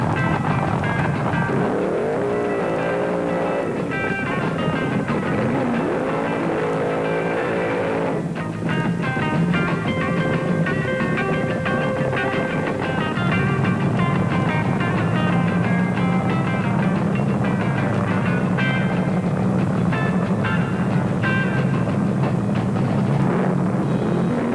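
Drag racing cars at the 1973 IHRA Northern Nationals launching and racing down the strip, one being the Kentucky Moonshiner: a loud, sustained engine roar with rising and falling revs, distant and continuous, with no voices.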